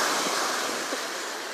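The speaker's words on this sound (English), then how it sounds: "Oh, big waves." Big ocean waves breaking on the shore at Virginia Beach, a steady close wash of surf with wind noise and no talking.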